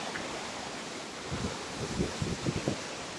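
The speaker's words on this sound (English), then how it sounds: "Pretty violent waves out there." Violent, choppy ocean waves off East Indonesia rush and wash as a broad roar mixed with wind noise, with a few heavier surges toward the end.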